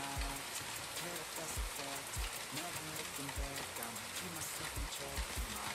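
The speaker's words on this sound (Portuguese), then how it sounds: "tá chovendo muito aqui" Heavy rain falls in the video game Sausage Man, a dense continuous hiss with recurring low thumps, mostly on its own at a fairly faint level.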